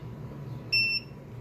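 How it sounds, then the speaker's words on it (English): One short, high electronic beep, clear and close, over a faint low hum. "It turns on, you'll hear a beep when it's up,"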